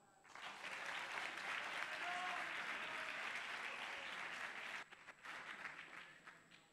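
An audience at an eSports exhibition breaks into applause, a dense wash of clapping that holds steady for several seconds, then thins into scattered claps and fades.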